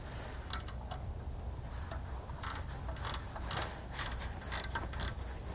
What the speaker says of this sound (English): We're going to be tightening it down using a 13mm socket.